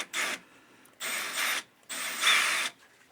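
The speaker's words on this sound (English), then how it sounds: "just start my hole so the drill bit doesn't walk" A power drill bores a starting hole for a Tigress 9-inch rod holder on a boat, whirring in three close bursts separated by brief pauses, with no one talking.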